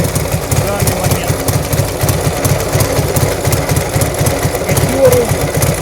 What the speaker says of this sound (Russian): вот так вот работает на холодную. Все, повторяю, двигатель холодный